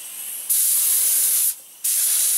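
A spray paint gun coats a plastic part from a Yamaha TDM850 motorcycle in a garage, giving a loud, close, steady hiss in two bursts separated by a short pause, with no talking.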